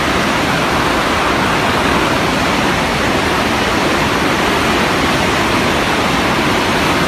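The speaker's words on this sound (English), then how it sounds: "It looks to me like there's a lot of flow coming out of there." Heavy water flowing out of Oroville Dam in California, a steady, loud broadband roar that holds unchanged from start to finish with no voices over it.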